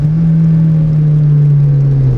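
Homemade track car with a 300 horsepower VVT engine, held at a steady, loud drone with a strong low hum, with no talk.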